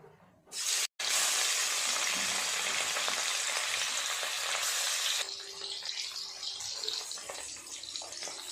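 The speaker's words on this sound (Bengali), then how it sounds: "তেল গরম হলে মাছগুলো ভেজে নেব।" Loud, dense sizzle of rohu fish frying in hot oil, bursting in after a brief pause, then settling into a softer steady hiss.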